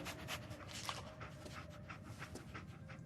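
Dogmeat, the dog companion in Fallout 4, pants steadily with a few soft whimpers, close by and fairly quiet, with no talking over it.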